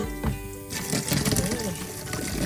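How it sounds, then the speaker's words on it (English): Tap water runs steadily into a kitchen sink while blanched almonds are peeled by hand, the flow sitting close under continuous talking. "Got running water there."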